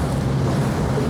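A sailboat motors across open sea on the way to Crete with its sail unfurled, the engine giving a steady low drone under a continuous wash of wind and water noise, with no pauses.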